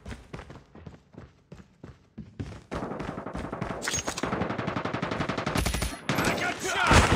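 Gunfire in the Call of Duty Warzone video game starts as sparse single shots, then becomes dense, rapid automatic fire that grows louder and ends in heavy overlapping bursts.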